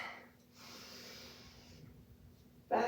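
A slow nasal inhale during a root chakra yoga flow, faint and airy, rising then fading, then ending in a sudden louder, sharper breath burst, with no speech.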